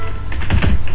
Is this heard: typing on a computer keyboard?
yes